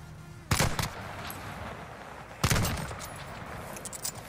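Two loud gunshot bursts from a Warzone match, each a sharp crack with a short rattling tail, about two seconds apart, followed by fainter distant shots over steady background ambience.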